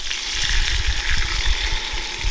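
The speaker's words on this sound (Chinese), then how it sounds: "然后加水" Water poured into a pot of stir-fried pork ribs with ginger, a steady rushing gush with a hissing sizzle as it hits the hot pan, continuous and close.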